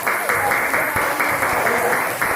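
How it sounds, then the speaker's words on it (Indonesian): A classroom group of pupils claps in steady, brisk applause, fairly close and even in loudness for a couple of seconds. "Tepuk tangan untuk kelompok gajah."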